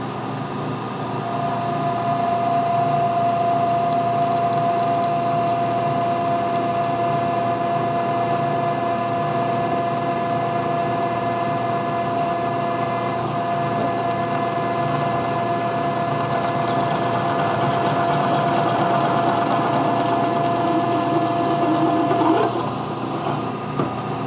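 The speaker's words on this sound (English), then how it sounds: "let's go back to the mill and let's just see how this cuts through." A milling machine drills through metal with a freshly sharpened drill bit, a steady whirring motor hum with a high tonal whine, continuous and close for the whole stretch.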